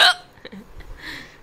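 A single sharp hiccup from a woman, loud and close, followed by a brief soft breath and quiet room tone.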